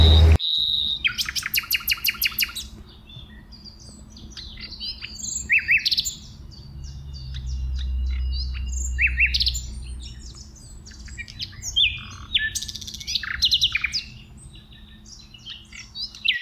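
A northern red cardinal in its natural habitat sings loud, rapid repeated whistled phrases and sharp chirps, with other bird calls and a low rumble beneath at times.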